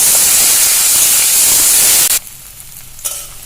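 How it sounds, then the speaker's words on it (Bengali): Onions and garlic fry in hot oil with a loud, close, steady sizzle that abruptly drops to a quieter crackle near the end. "এবার পেঁয়াজ রসুনগুলো ভেজে নিব।"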